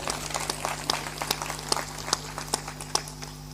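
Scattered hand clapping from an audience at a Hindi spiritual discourse, with irregular sharp claps over a steady low hum, fairly quiet and uneven.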